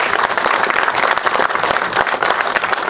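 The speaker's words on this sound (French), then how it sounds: "M. Aziz Badraoui, que je vous prie d'applaudir" A crowd at an official event in Fez, Morocco, applauding an honoured guest with loud, dense, rapid clapping that stays steady and close for a few seconds.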